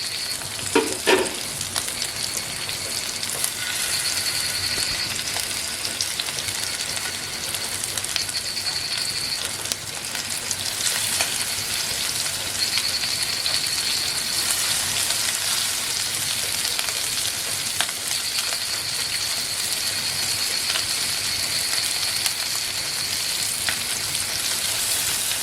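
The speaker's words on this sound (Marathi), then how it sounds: "इकडे आपण नवीन मासे पण फ्राय करून घेऊ" Konkan river fish fry in a pan over a wood-fired stove, giving a loud, continuous sizzling hiss with scattered pops and crackles, close by, with no talk.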